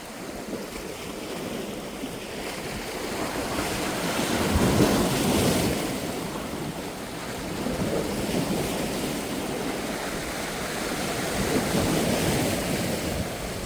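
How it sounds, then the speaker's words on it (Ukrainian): Sea waves wash and surge continuously at Fontanka at dawn, a loud, close roar that swells and recedes in broad pulses, with wind buffeting the microphone and no voices. "хвиля підіймається ще більше"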